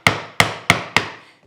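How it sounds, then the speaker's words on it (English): Chisel chopping a dovetail baseline in wood, struck four times in an even rhythm, each sharp, close wooden knock decaying quickly, with no talk. "go ahead and finish the chop"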